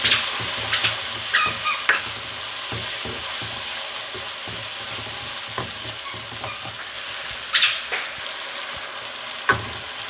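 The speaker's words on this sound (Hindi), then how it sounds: "थोड़ा सा भून लेंगे इसको।" Ground spices frying in a pan for chicken karahi, a steady close sizzle broken by occasional scrapes and clinks of stirring, with no talk.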